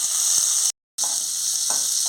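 Hot oil sizzles steadily with a bright hiss and scattered small pops as chana dal, onion, curry leaves and green chilies fry, briefly cut by a moment of silence.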